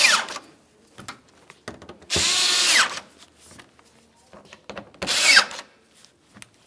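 A power drill drives T30 screws along the top of a Dodge Dakota front bumper cover, with two short, loud whirring bursts separated by quieter handling clatter and rustling.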